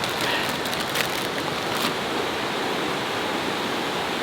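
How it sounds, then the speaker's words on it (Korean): Mountain stream water rushing steadily at a valley campsite in summer, a continuous broad, even roar with no talk over it. "계곡 물 흐르는 거 보니까 너무 좋네요."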